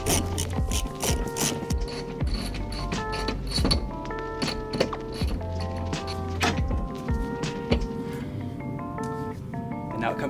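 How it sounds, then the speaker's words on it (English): Rapid clicking of a ratchet as it backs out a Honda Fit suspension spring, dense repeated ticks with metallic rattles, close and steady, with someone talking over it. "all you need to do is just ratchet it out"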